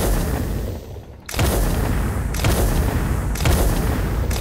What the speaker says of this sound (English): that ship over there must still be shooting at me